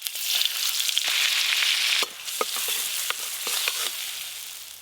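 White oil and butter sizzle steadily in a kadai over an earthen clay stove, a dense hiss with a brief drop midway and scattered pops and spatters, no voices.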